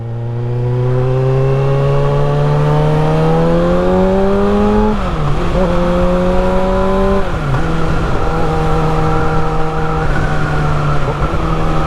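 A supersport motorcycle engine pulling away under throttle, its loud rising drone climbing in pitch through several gear changes, close and continuous.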